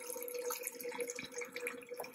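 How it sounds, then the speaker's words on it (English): Hot tap water running into a cooking pot in a kitchen, a faint, steady stream with light splashing and trickling throughout. "Now I'm going to fill my pot up with some water."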